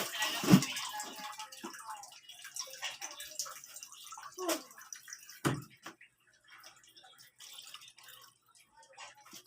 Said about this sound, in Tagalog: Lagyan ko na ng tubig